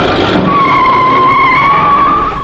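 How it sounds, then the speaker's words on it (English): Loud tires screech in a long, sustained squeal as a getaway car skids before crashing into a bandstand, the whine holding steady before fading slightly at the end. "we saw the getaway car crash into a bandstand"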